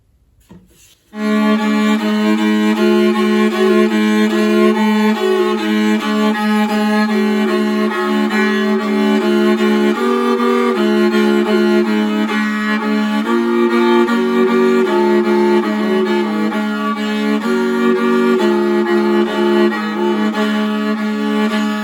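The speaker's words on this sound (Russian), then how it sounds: "сейчас у меня есть возможность показать, как инструмент звучит с дужкой и без нее" An 18th-century Guthrie gudok, a bowed folk fiddle played with its brace fitted, sustains a loud, rich, drone-laden tone with shifting melodic notes, bowed steadily and alone for about twenty seconds.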